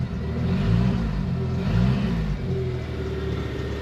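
An older Jeep YJ engine revs in a few quick throttle blips, a rumbling mid-pitched swell rising and falling over a steady idle, with no talking.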